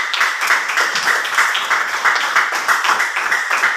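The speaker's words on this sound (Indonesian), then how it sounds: "Tepuk tangan buat temannya" A classroom of students claps for a classmate in quick, rhythmic, fairly loud applause that holds steady throughout, with no talking.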